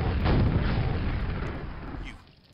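Heavy booming explosions from the video game Quake, a dense rumbling blast with sustained low roar that rolls on for about two seconds before fading, loud and close.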